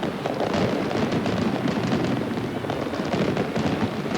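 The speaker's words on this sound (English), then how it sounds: "Thank you, Peter, as the fireworks explode and the Brisbane Broncos come out to a crowd" Fireworks crackle and burst continuously over a rugby league stadium as the Brisbane Broncos and Canterbury-Bankstown take the field for a 1994 Winfield Cup match, blending with a loud, roaring crowd in a dense wash of noise.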